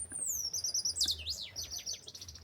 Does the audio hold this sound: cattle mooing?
no